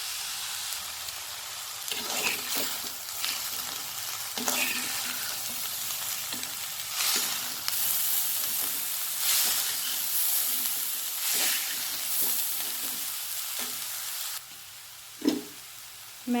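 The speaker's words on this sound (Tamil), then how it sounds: "நம்ம இடித்து வச்ச அந்த கலவையை நம்ம சேர்த்து மிக்ஸ் பண்ணிடுவோம்." A pounded mixture is stirred into spinach frying for poriyal, giving a constant sizzle close by with irregular spatula scrapes and taps, and one sharp knock near the end.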